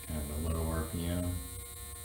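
A tiny SCX24 Jeep Gladiator RC crawler motor whirs steadily at low RPM during break-in, a thin electric hum with faint harmonic tones, close and continuous for about two seconds.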